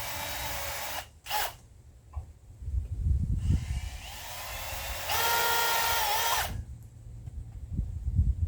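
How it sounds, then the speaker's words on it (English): Power drill boring pilot holes into the wooden bunks of a marine boat trailer, short whirring bursts and one longer steady whine close by, with spindle spin-ups between pauses. "Just drill a couple pilot holes to help it get started."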